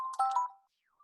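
A brief electronic phone ring chimes during a lecture, a short two-tone ding lasting about half a second, followed by a faint tail and quiet.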